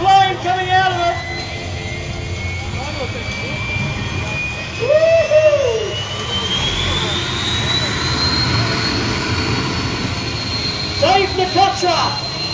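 A jet car's engine roars loudly and steadily with a rising whine, while excited voices shout over it in bursts near the start, middle and end.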